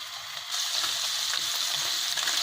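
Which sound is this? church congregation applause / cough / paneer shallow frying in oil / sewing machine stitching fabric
paneer shallow frying in oil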